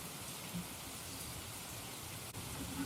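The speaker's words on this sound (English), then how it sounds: "A torrential downpour." Torrential rain pours down near a creek in Texas, a dense, even hiss of falling water that holds steady from start to finish with no voices.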